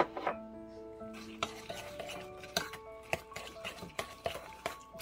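Melted butter with cinnamon and pecans being stirred in a dish by hand, giving light scraping and clinking spoon strokes in an irregular rhythm, close and fairly quiet with no talking.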